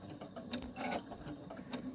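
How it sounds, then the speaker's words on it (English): A sewing machine stitches a fabric strip for a lined apron, making a faint, busy mechanical whir dotted with quick ticks and clicks, with no one speaking. "Your sewing machine may not like this either, so be very patient with your sewing machine."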